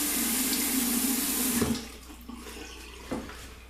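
Tap water runs steadily into a sink for a man wetting his face during a wet shave, a continuous loud splashing stream that cuts off at about 1.7 seconds, followed by a few faint drips and handling sounds.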